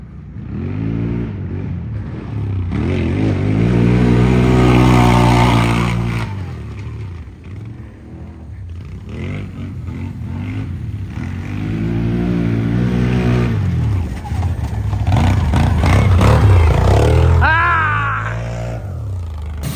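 A Honda 420 ATV fitted with an HMF exhaust revs again and again, each throttle blip swelling to a loud, raspy roar and falling back, close by and outdoors, with voices now and then.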